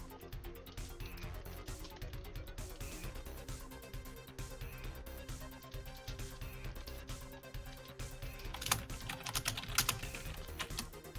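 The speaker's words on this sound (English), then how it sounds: "Oh, that keyboard sound." Rapid typing on a very old computer keyboard, with dense clacking keystrokes running steadily throughout over a busy background of music, loud and close.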